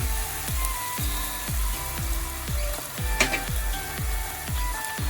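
A chicken korma mixture simmering with almond paste and milk gives a continuous sizzling bubble, while a spoon taps the pan in a regular repeating rhythm throughout, close and clear, no speech.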